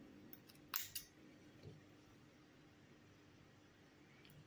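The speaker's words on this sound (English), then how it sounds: "Cut the yarn" Scissors snip through crochet yarn in one short, crisp cut with a quick follow-up snip, close and quiet against near silence.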